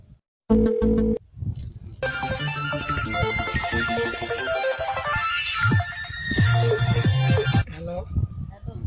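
A mobile phone ringtone plays loudly as a bright, continuous melody for several seconds after a few short tones, with voices around it.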